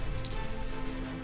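Steady rain falls on surfaces in Dallas, a dense, continuous hiss and patter with no talk.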